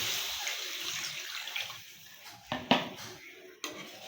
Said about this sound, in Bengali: তো দিয়ে দিলাম ঝোল